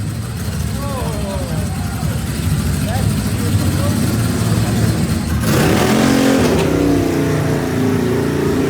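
A custom-built Ducati Monster S2R motorcycle engine idles with a steady rumble, then revs up sharply partway through, loud and close, with a brief voice heard early on.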